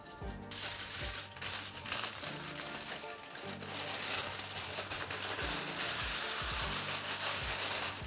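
Aluminum foil being handled while a piece of pork is wrapped and packed in it, with soft close crinkling and rubbing rustles in uneven bursts.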